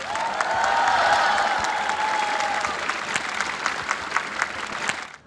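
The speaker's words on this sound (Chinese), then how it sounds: "我们现场的朋友先用热烈的掌声欢迎我身边这位陈文茜女士" Audience applause at a youth forum in Shanghai's Expo Park, a dense, steady wash of clapping that swells early and then thins to scattered claps before stopping, with faint voices underneath.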